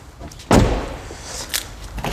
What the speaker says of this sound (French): L'accès au gasoil, il se fait en ouvrant la porte.